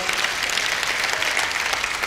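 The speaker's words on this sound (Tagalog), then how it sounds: "Malakas na palakpak." A church congregation applauds loudly and steadily, a dense wash of many hands clapping close and full throughout, with no pauses or talking.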